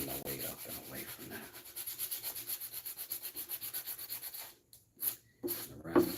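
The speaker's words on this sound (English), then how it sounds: "then sand my way up and away from" Wood hand-sanded close to a metal fitting on a handle, a steady rhythmic back-and-forth rasp of even strokes that stops near the end, leaving a couple of brief knocks and scrapes.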